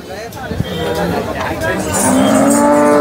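A cow lows amid a busy crowd at the Sangola cattle market in Maharashtra, with steady chatter and voices all around.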